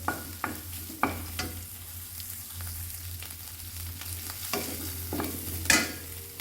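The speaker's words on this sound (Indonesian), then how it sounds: "harus ditumis dulu." Mushrooms sautéing in a pan for tofu mushroom soup, with soft frying crackle, a low steady hum and several sharp clinks and scrapes of a utensil stirring against the pan.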